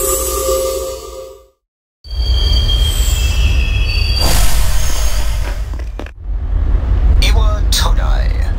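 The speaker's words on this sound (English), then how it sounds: "This is the final train bound for Tatsumiport Island." Train wheels squeal and rumble along rails in the video game Persona 3, a loud steady roar that drops out briefly, then resumes with high metallic screeches near the end.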